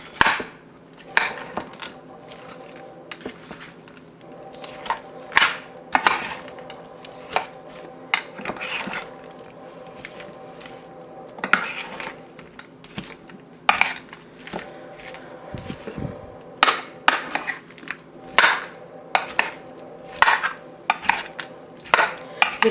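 Fruit chaat being mixed in a bowl, with sharp clinks and knocks of a spoon against the dish recurring in irregular bursts, close up, with soft wet stirring between strikes.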